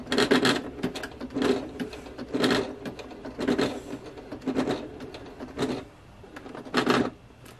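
Sewing machine labouring through many thick layers of leather for a sewn jacket, running in slow, uneven bursts of rapid stitching about once a second, each burst a loud clattering rattle with brief pauses between.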